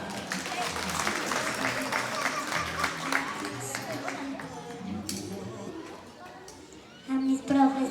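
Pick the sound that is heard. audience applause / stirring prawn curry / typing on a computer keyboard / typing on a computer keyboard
audience applause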